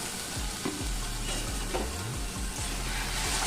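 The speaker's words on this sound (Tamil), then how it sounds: "இப்போ நம்ம ஏற்கனவே அரைச்சி வச்சுருக்க அந்த தக்காளி வெங்காய பேஸ்ட்டு இதில் சேர்த்துக்கோங்க" Tomato and onion paste added to a hot pan for chana masala, a dense crackling sizzle with the scrape of stirring running underneath, close and steady from start to finish.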